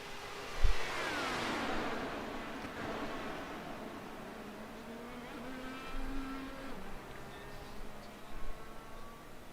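A pack of race cars sweeps past on an Indianapolis oval during a preseason race, their engines building to a loud, sustained roar with Doppler shifts as the group closes in and then drones on down the track.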